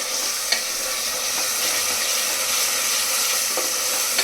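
Ginger garlic paste frying in oil for a mutton curry makes a continuous close sizzle, with a couple of sharp spoon-against-pan scrapes from stirring along the way.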